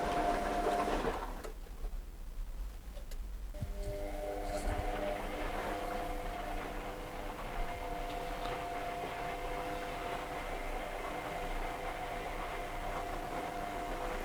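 A Hotpoint Smart Tech washing machine with a blocked drain and bad bearings runs its wash cycle, giving a steady mechanical hum and whine with a low rumble as the drum agitates. It starts with a brief burst of louder noise.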